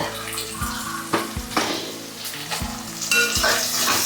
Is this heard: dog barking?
no